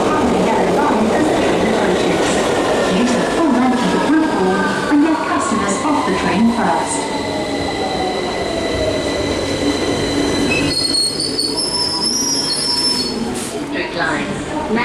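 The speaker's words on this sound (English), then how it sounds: "This is a Victoria Line train to Walthamstow Central." A London Underground Victoria line train rolls through a tunnel with steady loud rumble, metallic wheel squeal and whining tones rising and falling as it runs.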